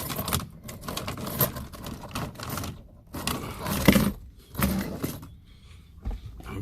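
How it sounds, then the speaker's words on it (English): Metallic keys jangle and clink in irregular bursts inside a quiet car, with soft handling noises between them. "Let me put the keys right here."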